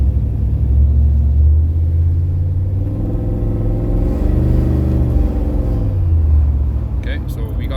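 A turbocharged LS-engined car pulls hard on the road, its low rumble rising and swelling as boost builds, then easing off, heard from inside the car with a voice briefly speaking over it.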